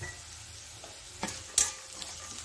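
Salt is stirred into an onion tempering for avalakki chitranna, giving a couple of short scraping strokes in the pan over a faint, low sizzle.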